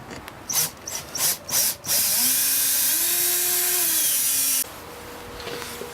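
A power driver drives screws back into a door hinge, first in a few short bursts and then in one longer whirring run, close by and with no talking.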